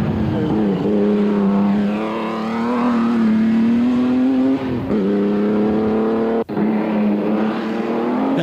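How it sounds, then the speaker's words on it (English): An ERA R8C vintage race car with independent front suspension drives a hill climb. Its engine drones loud and steady close by, rising and falling in pitch through the gears, with brief dips where the driver shifts. "Lord Howe's R8C with the independent front suspension with Bruce Spollen at the wheel."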